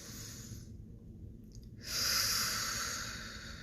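During an acupressure session, a slow deep breath: a soft inhale, a brief pause, then a louder, airy exhale hissing close to the microphone.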